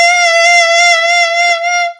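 Clarinet played by a beginner with too little lip pressure: a single sustained, steady note with strong bright overtones, loud and close, held about two seconds before stopping, no voices.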